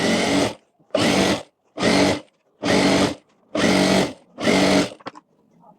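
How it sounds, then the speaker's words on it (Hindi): A sewing machine runs a second line of stitches along a co-ord set seam in six loud, even bursts of about half a second each, separated by brief pauses, then a few light clicks. "अब ये लूजर में दूसरी सिलाई कर लेंगे ताकि ये इधर उधर ना हो जाए।"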